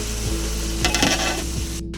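Fish with black mustard spice paste frying in a pan, a steady close hiss of sizzling oil throughout with a few soft stirring scrapes over it.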